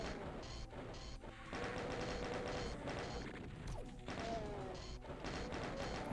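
Chaingunners firing in Doom II on the Stardate 20x7 map Sun/Moon/Stars, a dense, continuous barrage of loud gunfire and crashing impacts with no pauses and no talking.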